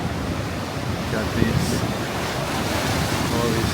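Ocean water rushes up onto a stony beach near San Francisco, a loud, continuous roaring wash of surf mixed with wind buffeting the microphone.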